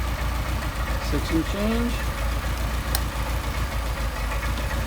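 A Mercedes 190SL engine with Solex carburetors idles steadily at around 700 rpm, a constant low rumble filling the clip while someone speaks briefly over it.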